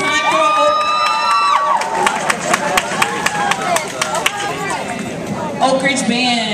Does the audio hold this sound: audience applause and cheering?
yes